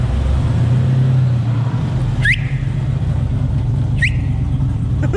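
LS-swapped GMC Syclone pickup on its first drive, a low steady engine drone heard from the cabin with two short high squeals breaking through.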